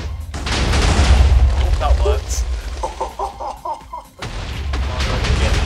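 Blocky TNT explosions in a Minecraft world set off near water, heard as loud booming bursts at the start and end with a run of smaller popping blasts in between, under excited talk.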